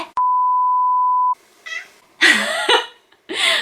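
A cat meows a few times after a long steady beep, the meows loud and close, broken by short pauses.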